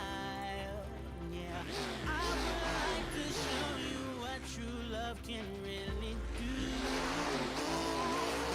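Monster trucks Iron Man and Scooby-Doo roar side by side in a Monster Jam arena race, engines revving hard and surging in loud, sustained bursts under a busy crowd and announcer.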